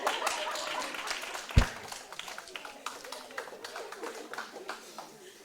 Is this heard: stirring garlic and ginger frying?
no